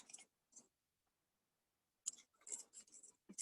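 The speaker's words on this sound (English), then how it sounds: "These scissors are not very good." Several short, crisp snips of poor-quality scissors during an echinoderm dissection, first two isolated, then a quick cluster of cuts close to the microphone, with quiet gaps between.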